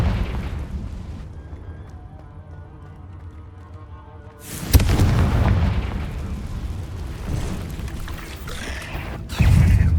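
A Confringo blasting curse goes off in the Hogwarts Legacy video game: a loud, booming fiery blast erupts after a quieter musical stretch, its roar carrying on with a second heavy burst near the end.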